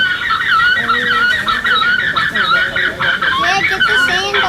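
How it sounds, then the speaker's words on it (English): Many birds squawk and honk at once in a noisy, continuous chorus, close and loud, with some voices faintly mixed in. "Sounds like a bunch of birds."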